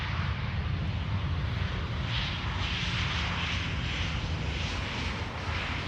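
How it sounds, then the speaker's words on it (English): An airliner arriving at Amsterdam Schiphol on a flight from Stockholm, giving a continuous, fairly distant rumbling engine drone with a faint steady tone running through it, alone without talk. "The flight arriving from Stockholm, where this airplane left from 1 hour and 42 minutes ago."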